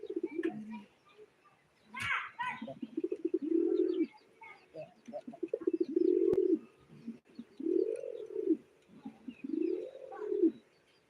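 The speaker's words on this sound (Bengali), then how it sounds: "আমাদের এই যে নর কবুতরটা" A male pigeon gives repeated low, throaty coos in a slow, uneven series, close and soft, with a few faint chirps and a brief bit of background voice.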